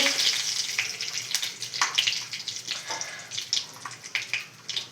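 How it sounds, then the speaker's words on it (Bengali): Whole cinnamon, cardamom, bay leaf and dried chilli sizzle in hot oil for a home-style vegetarian paneer dish, giving a continuous close crackle with bursts of sharper spitting pops. "তেলের মধ্যে দিয়ে দেব এখানে একটা দারচিনি আর এলাচ নিয়েছি ওটাকে ফাটিয়ে দিয়ে দেব তেজপাতা দিয়ে দেব"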